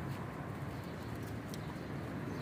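Kept pigeons cooing softly and continuously, a low steady murmur of several birds close by with no talking.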